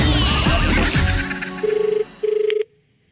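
A telephone rings twice in steady electronic bursts, loud and close, on a radio comedy show, right after a busy stretch of music and voices fades out.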